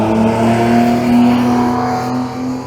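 A Triumph Stag's engine drones steadily at high revs at Goodwood Motor Circuit, loud and sustained, with a strong humming tone that barely shifts.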